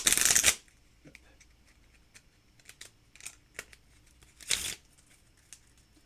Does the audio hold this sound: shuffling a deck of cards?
yes